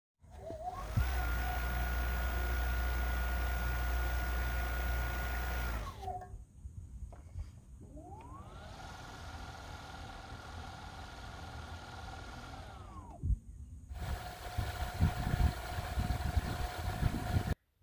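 Two 3HP brushless direct-drive electric outboard motors, an ePropulsion and a Torqeedo, run in turn, each a faint steady whine that ramps up, holds and winds down, with splashing water between runs.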